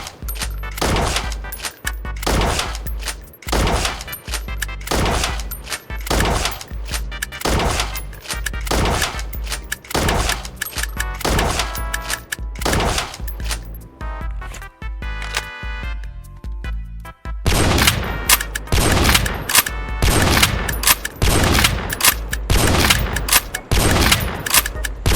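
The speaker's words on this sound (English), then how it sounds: "Now here is a side-by-side comparison of the two firing with the scopes." Two sniper rifles in the War Tycoon game, an AWP and a Barrett M82, fire scoped shots one after another: loud, sharp cracks at a steady rhythm with no talking, and the later stretch sounds denser and heavier.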